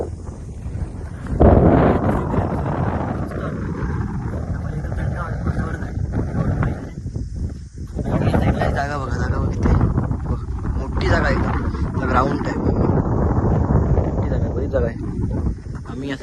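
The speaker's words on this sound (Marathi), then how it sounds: "हवा पण लय आहे वारा हवा बरीच हवा आहे" Strong wind gusts buffet the microphone at a dam amid green surroundings, a continuous roaring rumble throughout, with a person talking over it.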